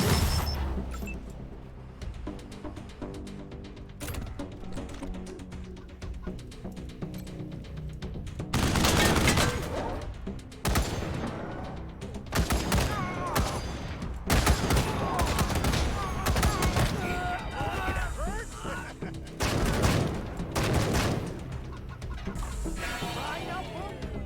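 Video game gunfire from Wasteland 3 aimed at a turret: bursts of sharp shots and a rapid fusillade crack out repeatedly over a quiet background of game sound.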